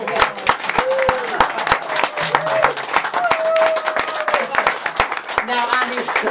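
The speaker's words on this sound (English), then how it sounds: "Give him a clap." Audience clapping at a magic show, crisp rapid hand claps from a crowd sustained for several seconds, with a voice speaking over the applause.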